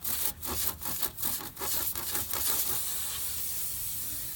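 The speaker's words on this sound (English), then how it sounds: "we got the reamer in there. You want to keep going in and out to get it nice and smooth" A tire plug reamer is pushed in and out of a puncture hole in a tire, producing several close, harsh rasping strokes in quick rhythm before giving way to a steady hiss.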